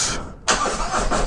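A 2023 Harley-Davidson CVO motorcycle in neutral cranks for a moment, then its engine catches and runs on at a loud, steady close idle.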